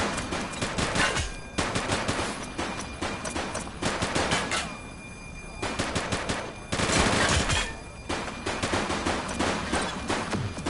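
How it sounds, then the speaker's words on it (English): Sustained bursts of automatic gunfire ring out in a police shootout in the PS5 video game The Precinct, with loud rapid volleys broken by brief pauses throughout. "She's shooting!"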